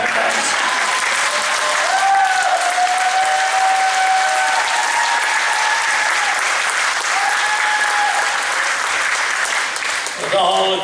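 A large audience at a George Takei talk breaks into sustained, dense applause that stays loud and even for about ten seconds, with some whoops and cheers mixed in before it starts to fade.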